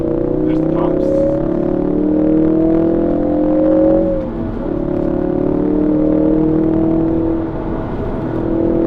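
A Ford Focus RS driven in sport mode, its exhaust droning and rising through a rev with a brief dip and lift as the throttle comes off and back on, loud and close throughout, with no clear separate pops standing out.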